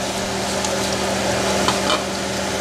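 Coconut paste sizzles and fries in a hot pan for Ceylon chicken paratha, a steady close crackling hiss with faint stirring scrapes and no talk.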